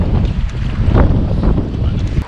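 Strong wind buffets the microphone outdoors on a camping and fishing trip in Occidental Mindoro, a steady loud roar near water with faint voices underneath.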